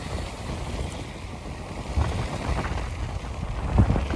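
A sailboat under way at about 6 knots, steady wind rush and water washing along the hull throughout, with a few louder gusts or wave slaps near the end; no talking.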